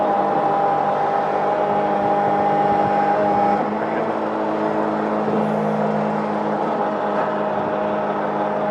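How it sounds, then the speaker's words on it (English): A truck's hydraulic pump runs as it supplies pressure to lower a trailer, giving a steady, loud mechanical whir with a tonal hum throughout. "Just put it into the hydraulics, which supplies pressure to the trailer to work the hydraulics"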